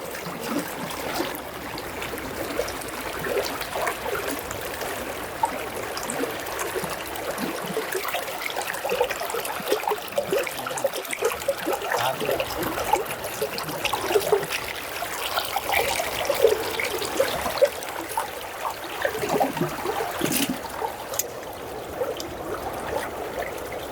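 Sesame and sunflower oil poured into a large pot for a 20 kg batch of roasted brinjal curry, South Indian style: a steady, continuous trickling stream, fairly loud and unbroken for over twenty seconds.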